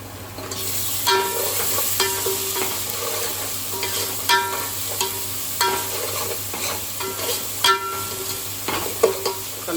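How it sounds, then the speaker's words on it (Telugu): Turmeric being stirred into goat head curry frying in a pan, with a steady sizzle and repeated scraping strokes of the spoon at an even pace, close and clear with no talking. "తగినంత పసుపు వేసుకొని మంచిగా కలుపుకోవాలి"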